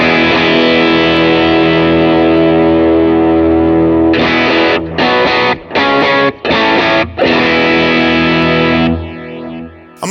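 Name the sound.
electric guitar through King of Tone overdrive on Helix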